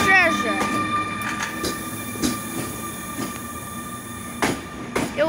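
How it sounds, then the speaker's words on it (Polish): Polish electric locomotive EU160032 hauls the Intercity Pobrzeże train through Kołobrzeg station, wheels clattering over rail joints with sharp metallic squeals and clicks, loud and close, with a voice speaking over it. "EU160032 z pociągiem Intercity Pobrzeże."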